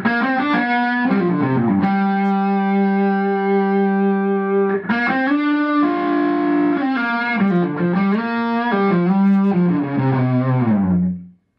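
An electric guitar runs through an overdrive pedal into an amp with the master volume raised, playing sustained distorted notes and chords with a full, open tone. It is loud and continuous, alone, and ends with a quick cutoff.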